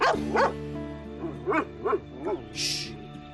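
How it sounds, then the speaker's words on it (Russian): A tied-up dog barks in a tense confrontation, several rhythmic barks close by spaced about every third of a second to half second, over a steady low background with a brief hiss near the end. "Заткните эту собаку."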